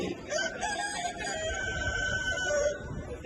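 A rooster crows near a farm hut at dawn, a long drawn-out harmonic call filling most of the moment over a steady background of rural ambience, with no one talking.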